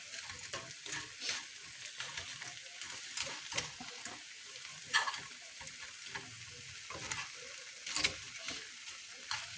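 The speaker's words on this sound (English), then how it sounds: "So I'm gonna move those eggs to the side. And I'm gonna add my bacon back in here to keep my bacon warm." Eggs and bacon frying together in a skillet for a breakfast sandwich, giving a steady, moderate sizzle with scattered crackles and a few sharper pops and utensil scrapes, no voices.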